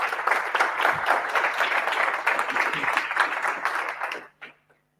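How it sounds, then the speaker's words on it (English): An audience at a Python meetup talk applauds, a dense even wash of clapping for about four seconds that stops abruptly. "please applause for Nithish."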